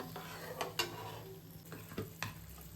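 Ginger garlic paste frying in a pan for matar paneer gives a quiet, low sizzle broken by several sharp scraping stirs and clinks at irregular intervals, without speech.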